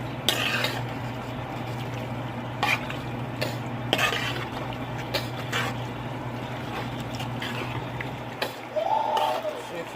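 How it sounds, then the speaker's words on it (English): Drained pasta being mixed with seasoning for an African fried chicken and pasta dish: repeated scraping and clinking of a utensil against the pot, close and fairly loud over a constant low hum, with no speech. "So I'm gonna mix it."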